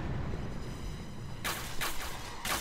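Gunfire in the Point Blank video game during a competitive Super League match: a few sharp, loud shots, the first around midway and others following in quick succession, over a muted background.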